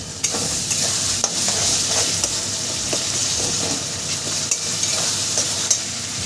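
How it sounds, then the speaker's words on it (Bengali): Spices for jackfruit biryani stir-fried in a pan: a continuous sizzle with repeated scraping strokes of a spatula, close and steady throughout. "মশলাটাকে আমি সুন্দর করে কষিয়ে নিচ্ছি"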